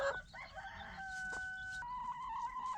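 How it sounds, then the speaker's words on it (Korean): Hens in a flock with young chicks cluck and call close by, giving a run of sustained tonal squawks and short clucks against quiet farmyard background. "대부분의 암탉들은 다니처럼 행동한다"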